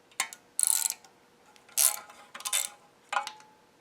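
A hand ratchet clicks in several short bursts while loosening 10mm oil pan bolts under a 1990s Subaru Legacy, close and crisp with pauses between turns.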